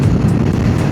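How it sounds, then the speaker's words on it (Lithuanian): A strong side wind roars across a causeway road by the sea on Saaremaa, Estonia, buffeting a motorcyclist with a loud, low, continuous rumble throughout the brief moment. "O, koks šoninis vėjas."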